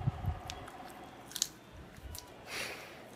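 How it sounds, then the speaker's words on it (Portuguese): Someone chewing garlic, a few soft squishy bites and mouth sounds close to the mic, fairly quiet with no talking. "Vou ter que comer alho"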